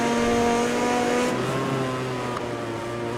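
Honda MotoGP racing motorcycle engine in the video game MotoGP 20, a loud sustained high-revving whine with a gear change partway through, continuous and close with no talk.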